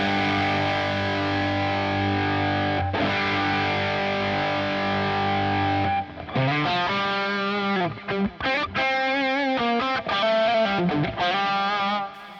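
Fizzy high-gain distorted electric guitar lead tone from a Mesa Boogie Lonestar amp model in a Helix, first sustained held chords, then choppy bent lead phrases with brief gaps.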